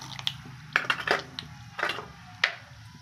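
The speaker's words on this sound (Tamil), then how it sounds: "கடுகு போட்டுக்கலாம் கடுகு வெடிக்குது" Sharp, irregular crackles and pops burst out in small clusters over a soft background hiss as mustard seeds splutter in hot oil.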